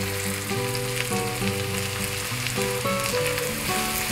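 Onions sautéing in sesame oil in a pan with asafoetida and salt for a vegetable chutney, a steady close sizzle and crackle running throughout without pause.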